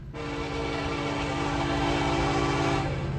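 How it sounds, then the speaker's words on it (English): A Norfolk Southern empty coke train passes close by, a steady loud rumble of wheels and rolling cars holding at an even level throughout with no voices. "He's an empty coke train."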